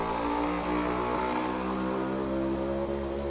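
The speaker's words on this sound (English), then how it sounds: "These motorbikes are so loud." Loud, continuous engine roar with a steady drone, like motorbikes passing close by, filling the whole clip without pause.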